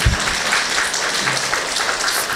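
Congregation clapping in a church service after a pastor's remark about planting seven churches in Gypsy villages, a steady, dense burst of applause filling the short stretch without speech.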